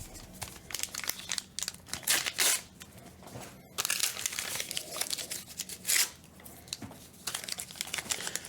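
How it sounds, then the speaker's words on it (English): Crinkling foil wrapper of a Star Wars Unlimited trading card booster pack being torn and crumpled open, a steady run of close, loud crackles with a few sharper rips. "This pack does not want to open."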